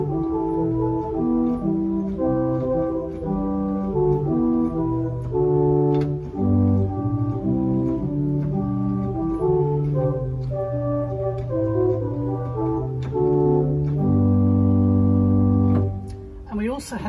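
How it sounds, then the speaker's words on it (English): The 8-foot tibia flute stop of the Willis pipe organ at St John the Evangelist sounds a slow melody of sustained, smooth tones that overlap and glide between notes, steady and full throughout with no one talking. "First of all, we have an 8-foot tibia."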